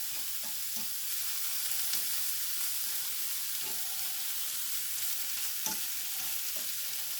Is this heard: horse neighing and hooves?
no